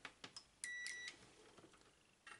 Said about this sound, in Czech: Tak vezmeme si pípák.